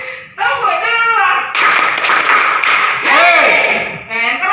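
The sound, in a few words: group clapping a rhythm pattern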